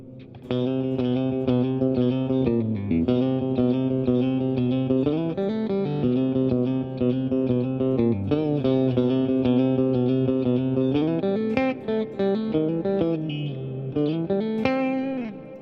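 An electric guitar played through a reverb effect with some distortion and chorus, strummed chords and picked notes ringing continuously and loud with a washy tail, no talking.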